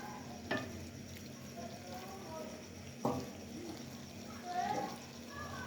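Mixed vegetables with potatoes and carrots being stirred in a pan, soft scraping and a low simmering sizzle with a few distinct clanks of the spoon against the pan, fairly close.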